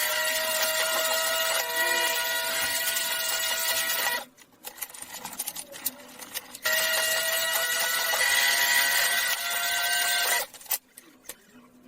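A lens drilling machine bores holes in a rimless eyeglass lens, giving a loud, steady high-pitched whine in two long bursts, separated by a brief quieter pause of faint mechanical clicks and small rattles.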